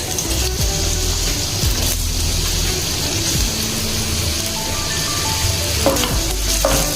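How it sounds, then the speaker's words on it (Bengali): Chopped onions sizzle loudly in hot oil for a masala egg curry, a dense, close, continuous crackle that holds steady throughout with a few light scrapes near the end. "তেল গরম হয়ে গেছে, এর উপর আমি দিয়ে দেবো কুচিয়ে রাখা পেঁয়াজ।"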